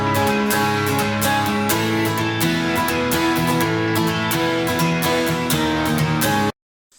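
An electric guitar from the Kontakt Session Guitarist Electric Sunburst instrument plays a bright, ringing arpeggio of quick repeated plucked notes with reverb, loud and clear before cutting off abruptly near the end.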